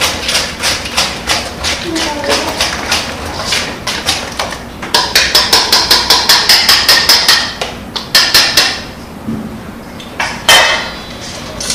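Butter being stirred into apple pie filling in a metal pan, with a spoon or spatula knocking the pan in rapid, regular taps that come in bursts, loud and close, with a short pause in the middle.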